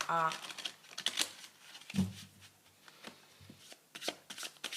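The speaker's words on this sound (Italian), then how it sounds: "Mettiamoci adesso queste altre carte, dove stanno?" Tarot cards being handled and laid out for a reading: a few quick papery shuffles, slides and soft taps of cards on a surface, close and fairly quiet, with someone talking over them throughout.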